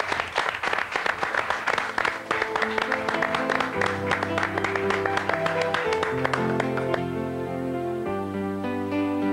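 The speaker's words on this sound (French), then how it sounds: "d'André Lamy que je vous propose d'applaudir tout de suite." A theatre audience at a French-language press revue show claps in a lively burst of applause. Music rises underneath and gradually takes over as the clapping thins out.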